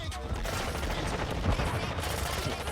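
Rapid gunfire bursts from the Warzone Mobile shooter game fill the mix continuously, loud and dense with overlapping shots, under a voice talking over the action.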